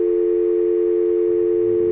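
A loud, steady, unbroken telephone dial tone holds for about two seconds before a simulated call to extension 111.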